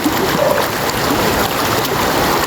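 A strong floodwater current rushing past, a loud continuous roar and wash of churning water close by, with no pause across the whole stretch.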